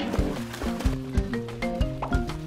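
A racehorse on a muddy track, hooves striking in a quick, rhythmic series of thuds with tonal music-like overtones, fairly close and moderately loud, with no voices.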